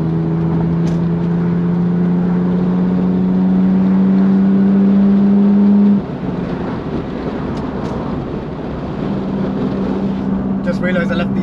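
BMW 325i E30 straight-six accelerating hard on kick-down along a dual carriageway with the window down, a loud, steady engine drone mixed with wind rush that eases to a lower, rougher roar halfway through.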